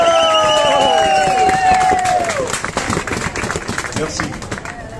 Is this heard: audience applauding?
yes